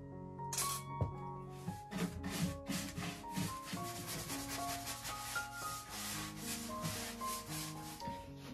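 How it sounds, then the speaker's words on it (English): Wax is rubbed onto a vintage oak buffet. Close, continuous back-and-forth rubbing and scrubbing strokes on wood follow a steady rhythm, with faint tonal squeaks mixed in. "And now it's time to wax the bottom."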